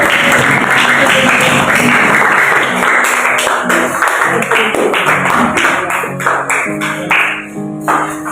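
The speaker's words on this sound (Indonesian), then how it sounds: "Kita tepuk tangan." Children clap their hands in a classroom, producing loud, sustained rapid clapping with young voices rising over it toward the end.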